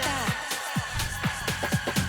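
Music plays through an echo effect on a Numark Mixstream Pro DJ controller, with regular beats repeating every quarter second or so as echoed copies of the sound trail after each hit, loud and with no talking.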